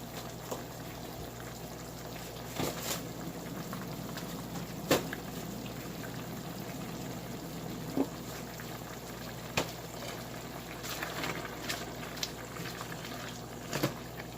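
Chicken tinola soup with spinach simmers in a pot, making a soft, steady bubbling hiss with occasional faint clinks and taps, quiet and unaccompanied by talk.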